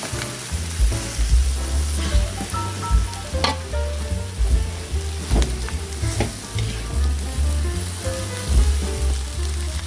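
Boiled cassava leaves stirred into cooked spices in a wok, with a steady close sizzle and frying crackle broken by scraping, clattering stirs throughout.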